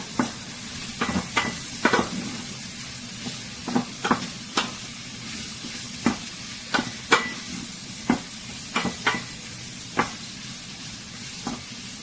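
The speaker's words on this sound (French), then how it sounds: "tu mets dedans la menthe et la pêche, comme tu vois devant moi. Tu laisses revenir" Mint and peach frying in a little olive oil, a low steady sizzle broken by frequent sharp scraping clicks of a utensil stirring the pan, close and alone.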